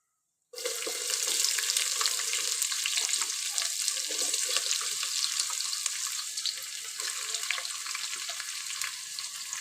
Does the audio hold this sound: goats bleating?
no